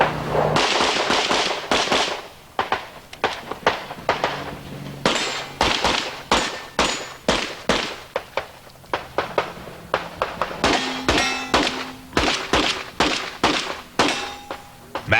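Pistol gunfire at the 1992 USPSA Nationals shooting match: a rapid, irregular string of loud, sharp cracks that echo, fired in bursts across about fifteen seconds with only short pauses between them.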